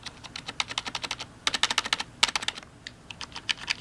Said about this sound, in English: There's a little bit of a click there, but these are membrane keys.